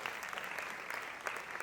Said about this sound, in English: Ladies and gentlemen, please keep clapping.